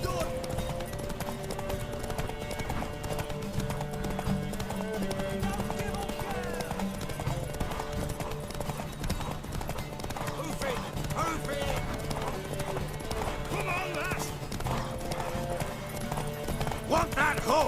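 Horse hooves clip-clop at a gallop in The Witcher 3 during a race, a steady rapid rhythm under game music, with voices of characters talking over it and an occasional whinny.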